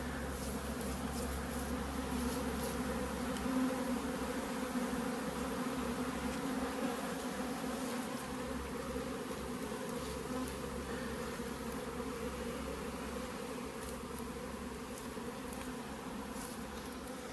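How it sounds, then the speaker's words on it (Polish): A honey bee swarm buzzes steadily at an apiary during a swarming event, a dense, continuous drone of many insects close by, holding a constant level throughout with no voices. "to jest grupa pszczół, która zabłądziła"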